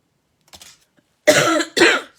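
Two harsh coughs in quick succession, close and fairly loud, after a faint breathy sound.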